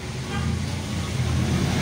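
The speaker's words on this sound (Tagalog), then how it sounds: "So, pasensya na sa ingay ng sasakyan dito." Steady road traffic rumbles outside a provincial house, a continuous low wash of passing vehicles with no distinct pass-bys.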